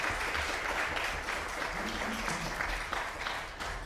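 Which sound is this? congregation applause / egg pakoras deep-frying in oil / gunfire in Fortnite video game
congregation applause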